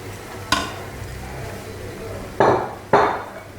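Chickpeas being sautéed in a thick gravy in a pan, a low steady bubbling sizzle broken by three sharp clanks of a spoon against the metal pan.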